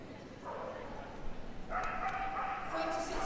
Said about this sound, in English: This is a miniature Australian Shepherd dog, 5 years old.